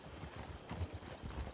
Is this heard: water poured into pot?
no